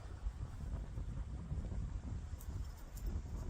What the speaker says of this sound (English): It's quite windy out here, as you can see